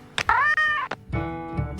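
A cat meows twice, a long rising-and-falling harmonic cry and then a shorter lower one, close and loud with a soft thump between them.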